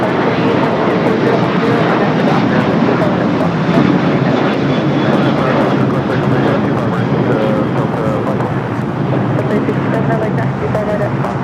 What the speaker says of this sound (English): That was Delta Flight 2096 heading to New Orleans at 737-800